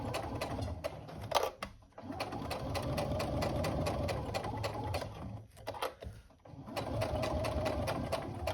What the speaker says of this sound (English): Make sure you reinforce it forward and back. And just sew straight across.